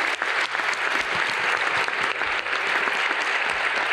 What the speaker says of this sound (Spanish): yo os pido que le deis un aplauso